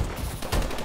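Rapid automatic gunfire in the online shooter Call of Duty: Advanced Warfare during a ranked Uplink match on the Bio Lab map, a brief loud burst of close shots.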